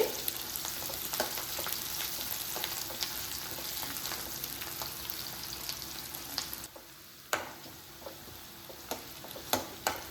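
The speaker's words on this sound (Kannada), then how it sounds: "ಇನ್ನು ಸ್ವಲ್ಪ ಕೆಂಪು ಬಣ್ಣ ಬರೋವರೆಗೂ ಫ್ರೈ ಮಾಡ್ಕೋಬೇಕಾಗುತ್ತೆ" Chicken pieces for green chicken sukha fry in a pan with a steady close sizzle, broken by occasional stirring clicks and a brief dip near the end before the frying resumes.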